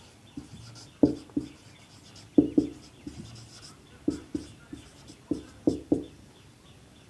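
Chalk or marker taps and scratches on a classroom board in short rhythmic bursts, several strokes every second or so, close and fairly clear with no talking.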